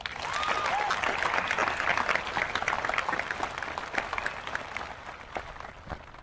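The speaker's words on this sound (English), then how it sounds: "So please give them a big round of applause." A graduation crowd in a stadium applauds, dense continuous clapping spread across a large open space, steady and moderately distant, tapering slightly toward the end.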